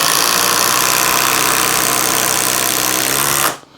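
Flex impact driver driving a 6-inch lag screw, a loud continuous buzzing hammering drone that runs steadily for several seconds and then cuts off abruptly near the end.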